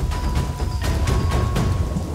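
A severe cyclone storm sweeping across Tamil Nadu brings a constant heavy rain hiss, broken by several sharp cracks and rumbles of thunder, loud and enveloping throughout.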